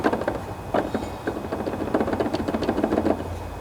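Another bad deck bearing on a John Deere LA145 riding mower clacks and rattles as its blade is rocked by hand: a steady series of close, dry knocks over a faint low hum.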